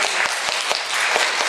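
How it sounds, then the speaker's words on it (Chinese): An audience at a post-screening talk at a nature film festival claps to welcome a speaker: brief, dense applause with a handful of louder individual claps standing out, close and continuous throughout. "那我们就以最热烈的掌声欢迎我们的邵广昭邵老师"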